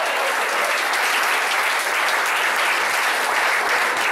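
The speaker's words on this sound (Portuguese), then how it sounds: "Você pode dar uma salva de palmas?" Dense, steady audience applause fills a church service at an Assembleia de Deus congregation in Ceres, continuous and fairly loud for the whole stretch without a break.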